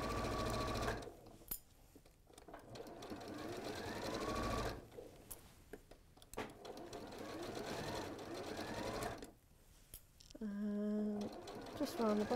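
A domestic sewing machine back-stitches a cat softie toy in a short, close whirring burst near the end, after a stretch of someone talking.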